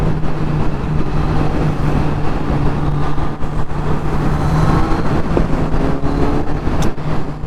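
Loud exhaust drone from a motorcycle with a stock slip-on exhaust and removed catalytic converter, heard while riding in foggy traffic on a group ride with Ducati and Kawasaki bikes; the engine note stays heavy and continuous throughout, mixed with wind roar.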